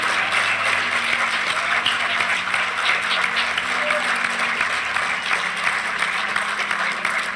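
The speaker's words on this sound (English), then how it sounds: "So again, please, round of applause." A graduation ceremony audience gives a sustained round of applause, dense steady clapping from a crowd that stays even in loudness from start to end.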